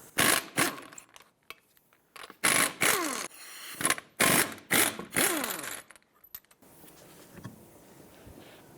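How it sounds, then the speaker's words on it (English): Lug nuts being removed with a 21mm socket from the front wheel of a 1997-2001 Lexus ES 300, heard as several loud bursts of an impact or power tool whirring, separated by short pauses, followed by quieter mechanical handling at the end. "Let's remove the wheel, 21mm socket."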